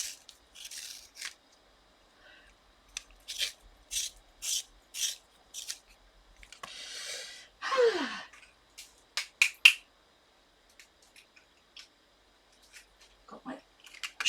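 A pencil is twisted in a small hand sharpener, giving short bursts of scraping and rasping in uneven groups separated by quiet gaps, close and fairly faint.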